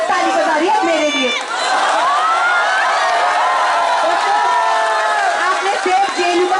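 A student election rally crowd at a university roars with sustained cheering, whoops and shouting, loud and dense throughout with overlapping voices and clapping mixed in.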